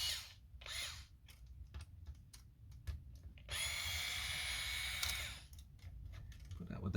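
A small electric screwdriver backs screws out of a Zoom G5 guitar effects pedal during disassembly, quiet on-off whirring bursts followed by a longer steady drone, with faint clicks and handling noise between.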